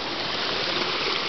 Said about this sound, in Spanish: estamos en la cascada de Tajor